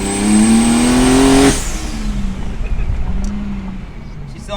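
A single-turbo BMW 335i engine revs hard for about a second and a half, rising in pitch, then drops back to a lower idle-like rumble with faint voices in the background.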